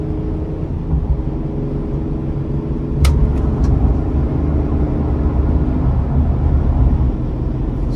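A 2023 Explorer 2500 conversion van with a Vortec V6 engine drones steadily from inside the cabin, its low engine rumble swelling slightly as it accelerates, with a few faint clicks partway through.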